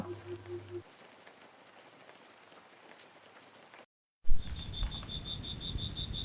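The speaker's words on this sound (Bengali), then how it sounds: "সেই দিন খুব জোরে বৃষ্টিও পড়ছিল" Heavy rain as a ghost-story sound effect, a soft steady patter that cuts out briefly and then returns louder alongside a regular, shrill cricket-like chirp, with no talking.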